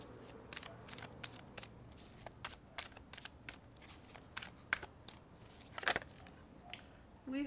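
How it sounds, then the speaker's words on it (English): Oracle cards being shuffled close up, a quiet run of crisp flicks and riffling snaps that repeat irregularly across the whole stretch, with a faint room hum underneath and no talking. "let's pull some oracle cards."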